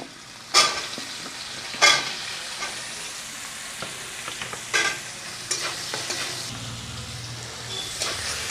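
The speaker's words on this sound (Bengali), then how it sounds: "এবার ভেজে নিচ্ছি কাঁচকলা।" Green plantain frying in oil in a pan for shukto, a steady close sizzle broken by several sharp scrapes and knocks of a spatula stirring the pieces, with no speech over it.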